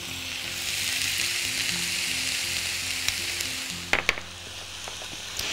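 Chicken drumsticks sautéing in a pan with onion, garlic, ginger, coriander and parsley, a steady close sizzle with a few clinks and stirring knocks near the end.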